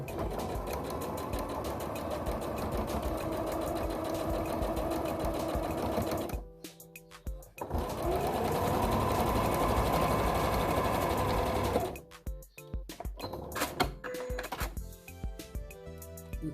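A sewing machine stitches strips of fabric on an interfacing base, running in a steady, loud mechanical whir, pausing briefly, running again and then stopping into a series of short bursts and clicks as it backstitches.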